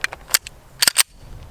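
Sharp close pistol shots from a CZ P10C with suppressor sights, several quick cracks in an irregular burst with a tight double and a final report, no voices.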